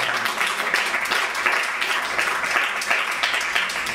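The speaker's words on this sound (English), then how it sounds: "Give yourselves a round of applause for getting out here and supporting." A comedy club crowd at the Ice House claps and cheers, producing a continuous, fairly loud burst of applause that keeps going without letup.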